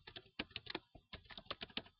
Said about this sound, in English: this is where I would type in Red Cross